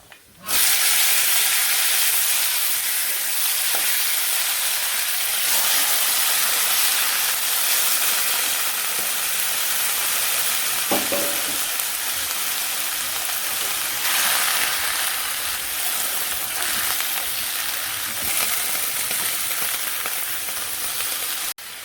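Vegetables frying in a pan with water and cumin, giving a continuous loud hiss and sizzle that holds steady for the whole stretch, close up, with occasional faint stirring knocks and no talking.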